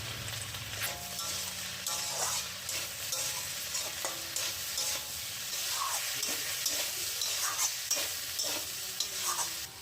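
Okra with salt and turmeric fries in a pan: a steady, loud sizzle with repeated scraping stirs throughout.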